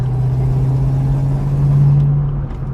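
A Ford Mustang engine with Flowmaster 40 exhaust, no catalytic converters and no turbo, idles with a deep, steady exhaust rumble, loud and close, easing off slightly near the end.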